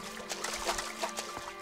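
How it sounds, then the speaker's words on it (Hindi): Water flows through a game world in ELEX II, a soft running trickle with faint sloshing, quiet and brief under a low steady hum. "पानी बह रहा है"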